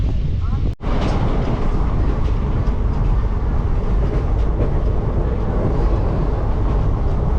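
A Haldibari–New Jalpaiguri passenger train runs at speed, a dense, continuous rumble and rattle of carriages heard from on board, loud and steady with a brief dropout near the start.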